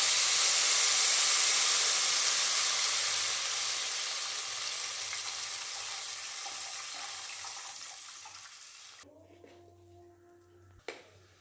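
Loud hissing sizzle of tamarind water poured into a hot pan that gradually calms to a softer bubbling, ending with a few quiet clinks.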